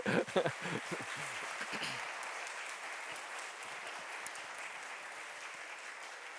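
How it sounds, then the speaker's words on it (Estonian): Guests at a church wedding ceremony applaud after the vows, a soft, steady patter of clapping in a reverberant hall that follows a brief moment of speech. "Teeme aplausi selle peale."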